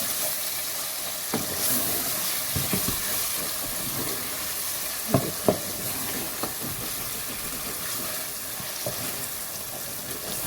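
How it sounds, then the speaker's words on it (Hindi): Chicken handi masala with yogurt is stirred in a hot pot. A continuous close sizzle and hiss runs under occasional spoon scrapes and knocks against the vessel, with no voice. "ये दही जो हमने इसमें एंड में डाला था उसको हम मिक्स कर लेते हैं, थोड़ा भून लेते हैं"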